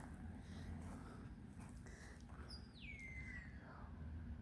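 Small birds chirp and call in the open on a spring walk, one clear sliding whistle-like call standing out midway over steady low wind and outdoor rumble, with no talk.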